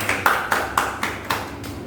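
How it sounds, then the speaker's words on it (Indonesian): An audience claps for guest stars at an evening show, about seven distinct, evenly spaced claps in a slow unison rhythm, fairly quiet with a slight ring. "Tepuk tangan untuk bintang tamu kita."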